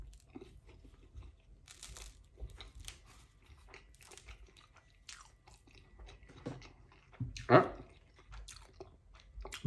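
Someone chews sausage and mushroom pizza close to the mic, with quiet crunching and wet bites that come in an uneven rhythm over low background noise.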